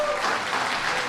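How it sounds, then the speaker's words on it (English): Brief, steady applause from a small audience at a community budget roundtable, a soft continuous patter of clapping hands heard alone. "Let's have a round of applause for that."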